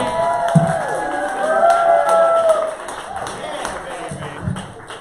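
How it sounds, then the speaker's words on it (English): A comedy club audience applauds and cheers as a comedian is introduced, a mix of clapping and whoops swelling and then easing off, with some crowd voices mixed in. "please give a huge applause for Dan Alten"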